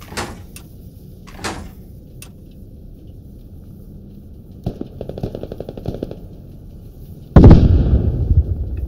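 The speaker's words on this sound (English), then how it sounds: "We're getting shot by a friendly BTR." A friendly BTR armoured vehicle firing on its own side in a military video game, starting with scattered distant cracks, then a rapid burst of automatic fire and a loud, close, sustained volley at the end.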